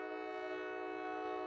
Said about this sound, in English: you hear the whistle